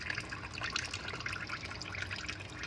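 Engine oil drains from the 17mm drain bolt of a 2017-2020 Hyundai Elantra 2.0L into a pan below, a steady close trickle of liquid that runs without a break.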